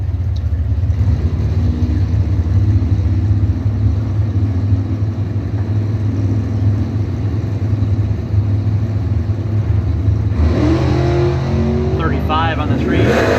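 A 1974 Dodge Dart Sport drag car makes a run at a drag strip, a loud steady engine drone and crowd ambience under an announcer's voice, then a sharper rising wail near the end.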